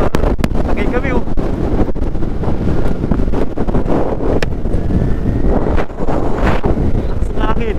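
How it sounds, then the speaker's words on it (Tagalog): Strong wind at Kakawayan Falls in Infanta, Quezon, buffeting the microphone in loud continuous gusts with roaring noise, while people talk over it. "Lakas ng hangin dito."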